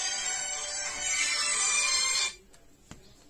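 A phone ringtone plays loud and steady for about two seconds as a call comes in from a father, then cuts off abruptly, leaving a quiet room with a couple of faint knocks.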